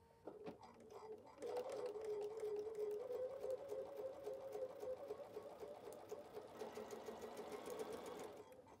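Sewing machine stitching a quarter-inch seam in pink quilting fabric, running as a steady, close whirring hum for most of the stretch with a short pause near the start.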